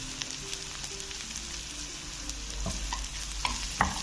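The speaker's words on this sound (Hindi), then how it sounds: "अब इसके अंदर हम आधी टीस्पून हम जीरा डाल रहे हैं।" Cumin seeds fry in hot oil for a potato and spinach dish, producing a soft, continuous sizzle with faint crackles and a few light utensil taps, close up and with no voices.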